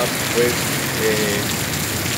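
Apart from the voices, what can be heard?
heavy rainstorm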